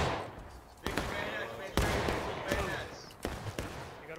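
Gunfire in the American Civil War game War of Rights, several sharp musket cracks and bullet snaps scattered over a rumbling battlefield backdrop, some close and loud, others more distant.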